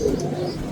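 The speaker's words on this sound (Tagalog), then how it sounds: "Yan yung ibon." A brief, soft cooing call from a raptor, close and alone, lasting under a second.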